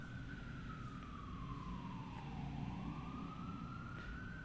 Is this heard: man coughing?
no